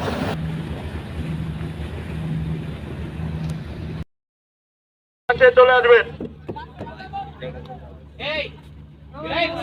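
A boat carries passengers across the water to a ship off Betua, Char Fasson, with wind and engine noise rumbling steadily, a brief dropout, then more wind and water under people talking.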